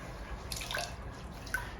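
Water drips from a wrung-out microfiber wash mitt during a rinseless wash of a Subaru WRX, a few faint, scattered drips and trickles over quiet background.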